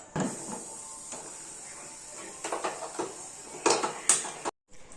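Metal lid of a pressure cooker being set on and shut during home baking of a jam cake, a few close clanks and rattles in a quiet kitchen, ending in a brief silence.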